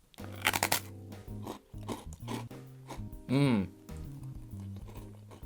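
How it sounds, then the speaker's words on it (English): Biting into a crispy fried rice cracker senbei flavoured with sweet and savoury soy sauce gives loud, close crunches and crackling chews in an uneven rhythm, along with a brief vocal sound of enjoyment partway through. "I actually think this is better than the other senbei, in that this has got proper crunch"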